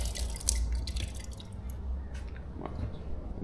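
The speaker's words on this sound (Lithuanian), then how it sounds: "Matot, vandenukas bėga." Tap water runs and drips steadily at a mosque washing area in Egypt, a soft, close trickle with scattered droplet splashes and no voices.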